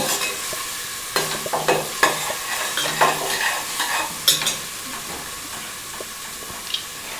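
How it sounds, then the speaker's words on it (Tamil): Ginger garlic paste sautéing in a pan for mushroom biryani, a close hissing sizzle broken by irregular scraping and clinking of a spatula stirring. "இஞ்சி பூண்டு பேஸ்ட் நல்லா வணக்கிறோம்."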